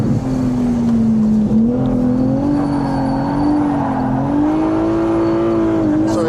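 A Ferrari 296 Speciale holds constant throttle while sliding on track, its engine giving a loud, steady droning tone heard from inside the car that wavers slightly in pitch, with voices talking over it.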